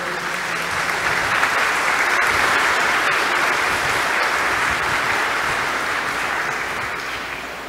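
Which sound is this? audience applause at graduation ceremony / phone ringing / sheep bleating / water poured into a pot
audience applause at graduation ceremony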